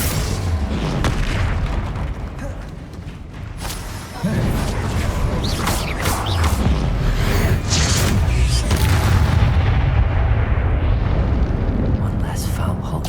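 Confringo spell blasts in Hogwarts Legacy: heavy booming explosions with a rumbling, sustained roar and scattered bursts, loud throughout and mixed with combat voices.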